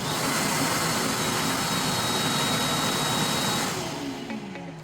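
A Milwaukee M18 cordless vacuum, started by wireless remote, runs with a steady loud whine and rush of air that holds evenly for about four seconds before beginning to wind down at the end.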